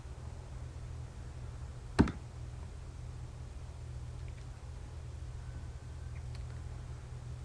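A computer mouse gives a single sharp click over a low, steady electrical hum. Apart from that one click, the scene stays quiet with no talking.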